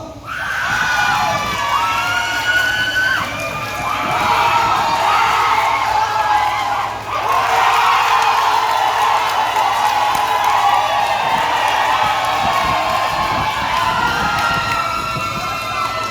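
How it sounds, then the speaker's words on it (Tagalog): A loud crowd at a provincial engineering office year-end party cheers, whoops and applauds continuously, with high shouts and screams rising over dense clapping throughout. "Palakasan ng palakpak!"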